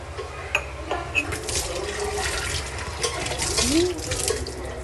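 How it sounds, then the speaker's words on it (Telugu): Water runs steadily from a tap in a sink, a continuous splashing hiss with a few faint clinks, no voices. "ఇంట్లో వాటర్ తీసుకుంటున్నాను ఇప్పుడు"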